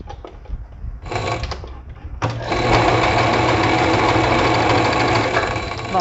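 A sewing machine runs a straight seam on fabric, starting with short stuttering bursts of stitching, then settling into a loud, steady, rapid mechanical whir that continues to the end.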